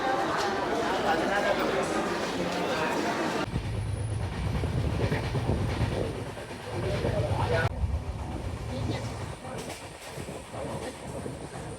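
A passenger train runs along the rails on a journey toward Coimbatore, giving a steady broadband rumble with a low hum and faint clatter, heard from inside the carriage. The sound is loud and continuous, changing in character partway through.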